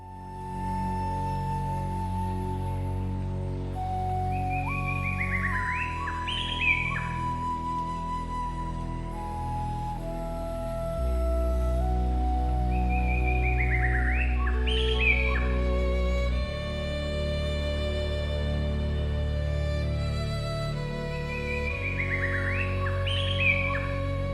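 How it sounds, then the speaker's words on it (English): Hornbill calls ring out three times at roughly even intervals, each a loud rising cry over a steady musical drone, in a Thai forest canopy. "When hornbills gather, the canopy becomes alive with sound, wings beating, casques clattering, and calls echoing."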